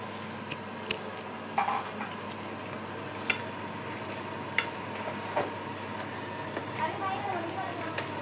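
Chicken frying in a pan for a chicken biryani meal, a faint steady sizzle with occasional light clinks and stirring taps of utensils against the pan.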